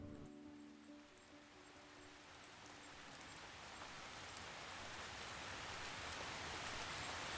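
Steady rain falls on a backyard garden being turned into wildlife habitat, a broad, even hiss that swells gradually louder over the span, with no voices present.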